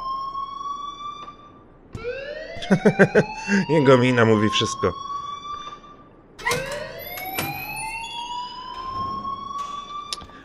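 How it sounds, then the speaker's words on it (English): An alarm in the game Life is Strange rings in long rising electronic tones that repeat loudly, while someone speaks briefly between them. "please turn off that alarm"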